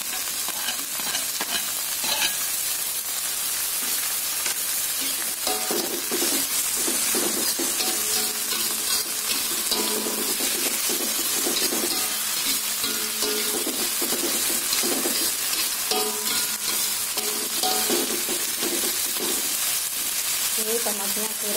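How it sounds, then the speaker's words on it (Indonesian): Tomatoes sauté in a hot pan with a loud, constant hissing sizzle and intermittent stirring scrapes, close by and continuous. "kemudian tomat baru aku tumiskan gitu ya"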